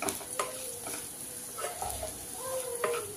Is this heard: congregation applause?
no